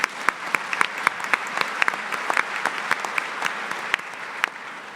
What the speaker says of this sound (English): I think you should give him a clap